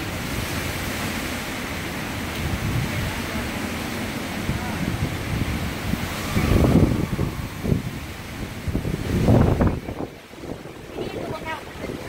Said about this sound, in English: Look at the wind now.